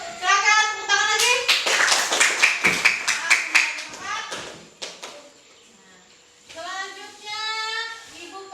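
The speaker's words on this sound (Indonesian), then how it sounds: "Silakan tepuk tangan lagi." A classroom of children clapping for a student group after a presentation on series electric circuits, a burst of dense hand claps between stretches of a teacher talking.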